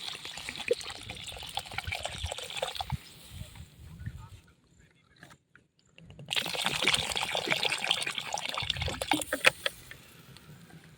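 Water is poured into a pot of rice, moong dal and turmeric for khichdi, splashing and trickling in close bursts with a brief pause midway, then continuing more loudly.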